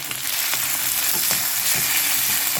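Sliced onion sizzles loudly in a hot pan as it starts frying for a mutton curry, a dense steady crackle with occasional stirring scrapes, heard up close with no talk.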